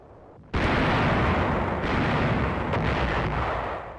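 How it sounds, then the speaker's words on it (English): Artillery fires on enemy barges on the Rhine near Düsseldorf in a wartime combat scene. After a brief quiet moment, a single heavy boom breaks out loudly and is followed by a long rolling rumble that slowly fades. "Firing on enemy barges in the Rhine before Dusseldorf"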